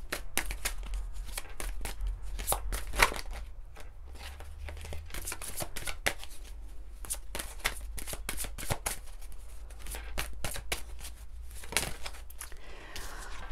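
Oracle cards are shuffled by hand, a quick dense run of soft riffling snaps and papery slides, close and fairly quiet over a low background hum.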